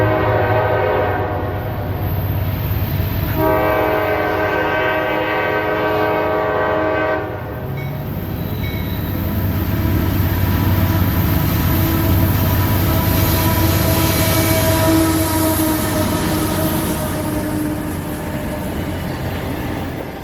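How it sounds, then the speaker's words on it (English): Loud horn blasts from a southbound empty phosphate freight led by a freshly rebuilt CM44AC locomotive numbered 7014 in YN3 paint, with a steady rumble of rail cars rolling past close by, strong and sustained. "This train you're seeing here is southbound empty phosphate K823 heading back to Winston"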